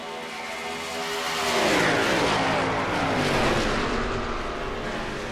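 Stock cars racing at Las Vegas in the NASCAR Racing 2003 video game, a dense engine roar that swells as the field passes close, then holds loud and steady through a multi-car wreck.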